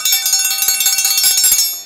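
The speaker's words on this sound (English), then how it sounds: "here is our nice bell now suspended on a piece of string. Here is our clacker." A hand-forged dinner bell hung on a string is struck by its clacker in rapid repeated strikes, giving a bright, ringing metallic clang that sustains steadily for under two seconds before fading out.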